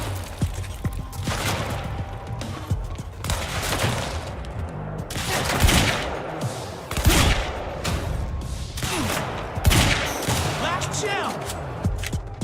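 Heavy pistol gunfire from the Quantum Break video game cracks in repeated bursts of sharp shots over a busy game soundscape, with a player's voice talking at times.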